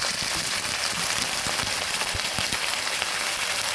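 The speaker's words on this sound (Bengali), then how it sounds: "সব কিছু সুন্দরভাবে ভেজে সামান্য একটু জল দিয়ে দিচ্ছি" Water poured into a hot pan of fried ingredients for a hilsa fish head and shola kochu dish sizzles and crackles steadily, close and moderately loud, with no voices.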